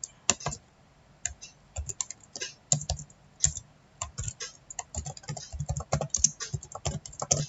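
Program code is typed on a computer keyboard, with close, irregular bursts of key clicks, short runs of rapid strokes and brief pauses, and no talk.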